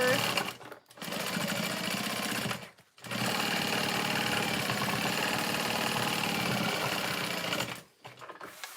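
Home sewing machine stitching the top seam of a tote bag at a long stitch length, running in fast, steady bursts with brief pauses between runs, close and clear.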